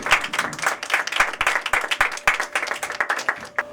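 A church congregation at a Christmas meeting applauds loudly, with many hands clapping in a dense, steady burst that carries through the whole stretch.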